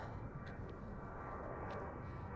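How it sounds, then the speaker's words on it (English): An airplane passes overhead in an Ontario, California neighborhood, heard as a low, continuous rumbling drone that stays even and moderately distant throughout. "you can really hear that airplane"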